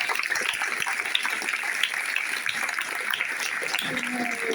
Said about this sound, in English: I want everyone to give a big round of applause to Safia Jack.